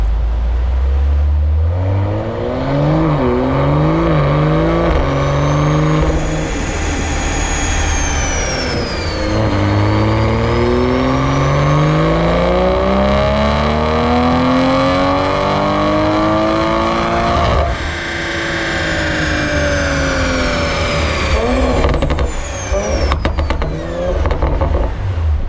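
A Toyota Supra engine on a dyno revs hard and loud, climbing steadily through the gears with rising whine and roar, easing briefly between pulls before building again to a high rev.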